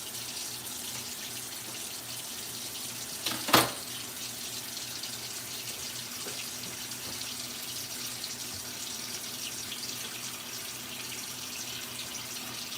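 Cool tap water running steadily into a kitchen sink over food being rinsed, a constant gentle splashing hiss with one brief sharp clatter partway through and no talking.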